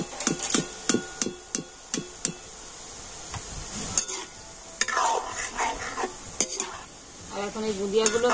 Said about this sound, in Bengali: এখন এই বুঁদিয়াগুলোকে আমি লাল করে ভেজে নেব